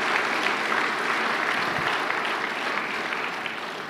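A church congregation applauding during a Filipino worship service, a dense, sustained roar of clapping that fills the room and tapers slightly toward the end.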